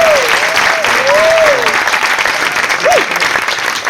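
Audience at a high-school concert applauding the arranger, with dense, loud clapping throughout and a few voices calling out over the sustained ovation.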